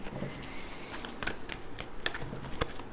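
Tarot cards are shuffled by hand in quick, close riffling bursts with soft slaps and flicks in between, fairly quiet against a light background hiss and with no talking.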